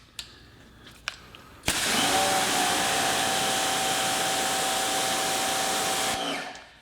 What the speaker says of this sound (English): Now, I do have to say that the pump sounds good. The pressure washer is nice and quiet.